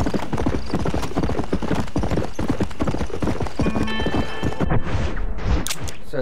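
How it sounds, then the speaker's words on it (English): Rapid, rhythmic clip-clop of galloping horse hooves in the video game Red Dead Redemption, loud and close, with a brief whinny-like tone partway through. "So there's a horse down in Mexico."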